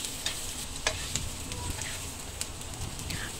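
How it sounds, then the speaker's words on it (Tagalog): Shrimp and onion sauté in a little oil, a steady close sizzle with intermittent scraping and clinking of a spatula stirring the pan throughout. "Halo-haloin lang natin guys hanggang sa maluto yung ating hipon, sibuyas."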